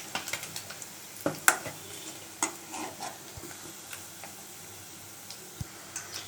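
Small nethili fish fry quietly in a pan while they are turned over, with a faint sizzle under scattered taps and scrapes of a utensil against the metal.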